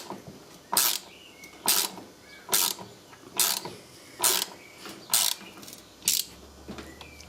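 A ratchet tightens a bolt holding the concrete weight on a Beko WMA520W washing machine, seven evenly spaced loud clicking strokes close by, with no talking.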